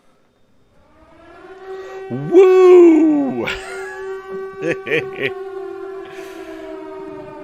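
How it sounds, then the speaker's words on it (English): A siren wails loudly, rising and falling in a long howl, while a voice whoops along with it and a dog seems to join in. "We're gonna start with the sirens."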